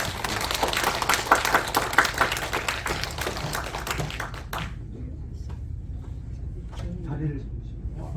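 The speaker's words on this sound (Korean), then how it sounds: "큰 박수로 환영해 주시기 감사드립니다." Applause from a congregation at a Won Buddhist temple service in Los Angeles, welcoming a speaker: dense, lively clapping for about four and a half seconds that stops abruptly, leaving a quiet room with faint movement and a few murmurs.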